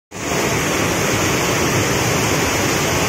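A large waterfall roars with a steady, loud, dense rush of falling water, unbroken from start to finish, with no voices.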